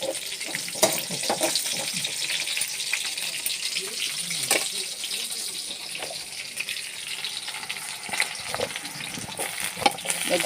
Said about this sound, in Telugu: మెంతి వంకాయ వండుతున్నా ఈరోజు మా కర్రీ